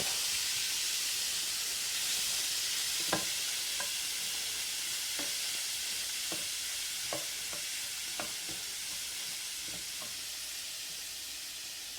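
A big batch of shrimp sizzles over a hot fire on high heat, giving a steady, even frying hiss broken by a few sharp pops and crackles.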